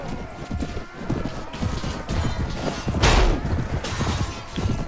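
Horses gallop in Mount and Blade: Warband, a dense, continuous drumming of hooves with a brief crashing impact partway through, no voices.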